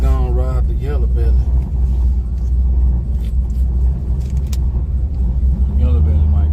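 A Mustang idles at Yellow Belly Drag Strip with a deep, loud, continuous rumbling exhaust, heard up close with someone talking over it.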